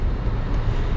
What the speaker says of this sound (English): sorry about the noise from the defroster, it's going to be quite loud.